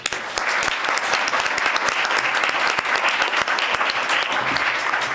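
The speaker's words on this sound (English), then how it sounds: "I think we should give our panel a round of applause." An audience at a Space Force panel session gives the panel a round of applause, with dense, steady clapping held at an even level for about five seconds.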